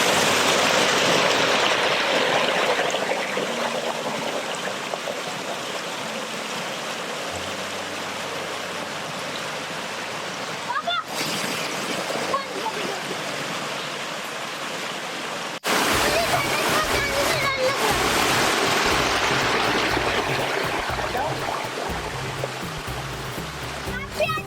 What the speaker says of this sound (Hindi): देखिए कितना साफ पानी पत्थरों के बीच से बह रहा है।